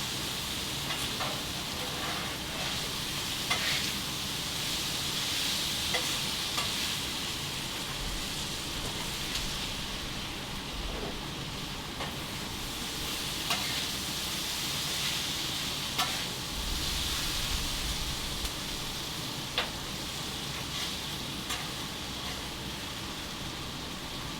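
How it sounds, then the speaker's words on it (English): Potatoes and chicken frying on an outdoor griddle while being mixed, a steady dense sizzle throughout with occasional faint scrapes and taps, no talking. "I'd like to see you try to fry up this many potatoes in the house."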